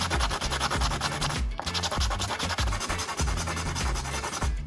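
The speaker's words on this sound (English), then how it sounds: "Gently sand around the freshly cut surfaces of both lighter bodies to remove any rough spots, burrs, or sharp edges." Sandpaper rubs back and forth over the freshly cut plastic edges of two lighter bodies, a steady close rasping scrape with one brief pause partway through.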